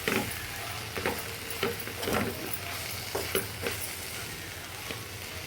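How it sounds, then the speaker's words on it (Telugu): Chapati pieces with chili powder, part of a chapati-cabbage snack, are stirred in a frying pan: a soft sizzle under a series of irregular scraping strokes, fairly quiet and close. "ఇదంతా కలిసేలాగా మిక్సీ చేయాలి."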